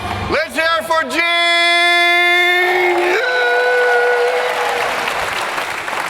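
A long, held vocal note opens, then audience clapping for a participant named Gene swells in beneath it and carries on as broad, steady applause at a school nutrition association gathering.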